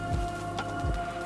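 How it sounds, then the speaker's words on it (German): Hail falls outside, heard from indoors as a faint, steady pattering rush with a few slightly louder hits, distant and continuous, with no talking. "Draußen hagelt's wieder."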